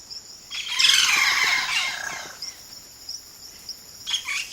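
A single Amazon bird calling, mimicking a chorus of several birds with bright squeals, chirps and squawks, loudest in a dense burst early on, then scattered sharper calls against faint forest ambience.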